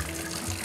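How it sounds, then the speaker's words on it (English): Water pours steadily into a tub while a dog is being washed at home, a continuous close splashing flow with no talk over it. "And now there's more water."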